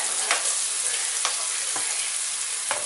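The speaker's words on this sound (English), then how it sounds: "Now we're going to go ahead and add 2 tablespoons of minced garlic." Minced garlic sizzles in a frying pan while being cooked for a shrimp saganaki in red sauce with feta. A dense, close sizzle holds throughout, broken by several quick scraping stirs at regular intervals.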